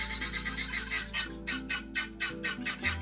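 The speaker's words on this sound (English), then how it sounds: "the guineas are being pretty noisy this morning" Guinea fowl calling noisily in the morning on a farm: a rapid rhythmic series of harsh, raspy, repeated cries, loud and close, with several birds overlapping in a continuous chorus.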